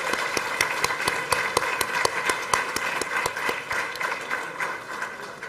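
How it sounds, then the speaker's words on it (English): Scattered, fairly steady clapping from a convocation audience for award recipients, with distinct sharp claps standing out over a dense patter. "Let's give the research and merit awardees a big applause again."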